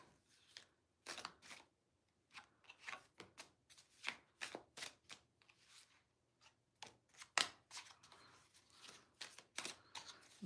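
A deck of cards is shuffled during a live tarot-style reading, heard as quiet, close riffling and tapping in irregular bursts with short pauses and no talking.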